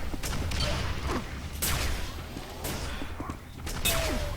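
Railgun shots in a Quake 4 2v2 team deathmatch, heard as sharp bursts at regular intervals over constant gunfire and in-game clatter, with no speech.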